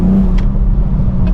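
BMW G42 M240i, a torquey six-cylinder coupe, pulling away at low speed around town, with a steady low engine drone and faint whirring close up; no voices.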